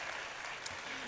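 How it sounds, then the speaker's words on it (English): Brief burst of audience applause after a speaker at a talk on the future of human-computer interaction, steady and somewhat muffled, with faint voices underneath. "Give Shay a massive round of applause"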